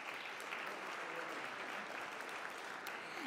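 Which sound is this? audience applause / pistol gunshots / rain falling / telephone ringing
audience applause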